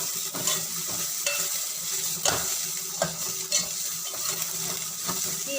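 Spinach (cheera) is stirred while frying in a pan, a close sizzle broken by repeated scrapes and clinks of the spoon against the metal, with no talking.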